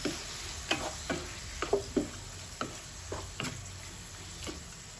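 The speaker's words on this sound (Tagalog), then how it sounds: "Then we'll put paprika and mix it." Paprika being stirred into pork in a hot pan, with a low steady sizzle under scattered scraping and clicking stirs from a utensil against the pan, close by and fairly quiet.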